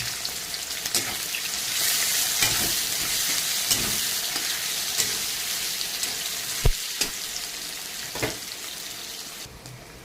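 Chopped onions sizzle loudly in hot oil with cinnamon, three cardamom pods and three cloves, a steady broadband frying hiss throughout with occasional sharp pops and spatters, no voices.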